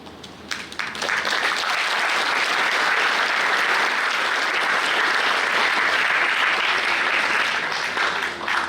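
A school audience at Adani Public School, Mundra, bursts into loud, sustained clapping during a 25th-anniversary celebration. The applause swells quickly after a brief quiet start, then stays full and even before easing slightly at the end.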